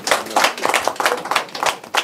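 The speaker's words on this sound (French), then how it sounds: "applaudissez pour lui." A small audience at a reconciliation meeting with an Ivorian minister claps in sparse, uneven bursts, distinct individual hand slaps standing out close by rather than a dense roar, lasting only a couple of seconds.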